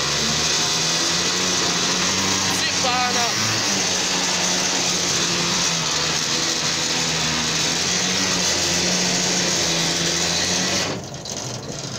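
A mine locomotive engine runs steadily inside an ore mine in Dúbrava, a loud continuous droning mechanical hum with a brief rattling burst near the start, cutting off abruptly just before the end.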